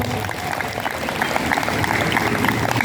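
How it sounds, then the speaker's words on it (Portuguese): A parish congregation at a vocational testimony event gives a round of applause, a dense continuous clatter of many hands, fairly close and steady for the whole stretch. "Mais salvas de palmas, por favor."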